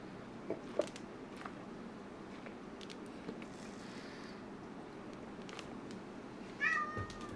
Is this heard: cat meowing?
yes